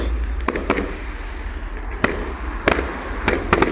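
Fireworks go off at a display in Rhyl in a string of sharp, fairly close bangs and crackles spaced irregularly over a low rumbling background.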